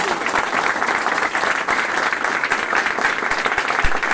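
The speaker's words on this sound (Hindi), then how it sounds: "बीपी यादव सर, मैं चाहूंगा सभी लोगों के लिए एक जोरदार वाली तालियां।" Loud, sustained audience applause at a Vestige marketing plan seminar in India, a dense steady crowd clapping that fills the whole stretch without a break.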